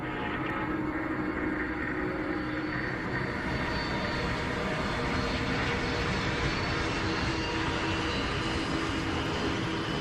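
Air India airliner on its takeoff run, a steady loud broadband engine roar that holds throughout without pause.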